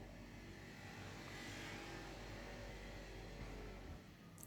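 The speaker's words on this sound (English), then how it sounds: "just wait for the scooter to pass." A faint engine hum of a scooter passing at a distance, rising slightly and fading, with steady background noise and no talking.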